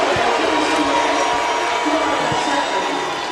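A Tennessee basketball crowd in Nashville at a 2008 SEC Tournament women's game against Florida, a loud, steady roar of cheering filling the arena without a break.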